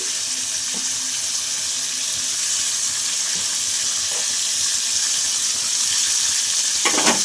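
Sliced onion frying in hot oil with a bay leaf and three green chillies for a crab curry, giving a steady, loud, close sizzling hiss throughout with faint stirring clinks.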